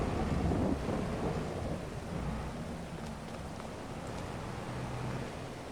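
Steady rain falls during hay baling work, a broad, even hiss with a low rumble underneath. It runs continuously and fairly loud throughout, with no voices.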